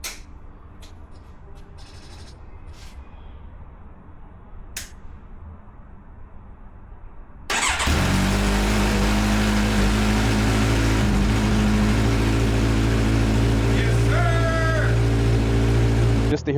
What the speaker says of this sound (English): Just to hear my bike start up before I took it to the shop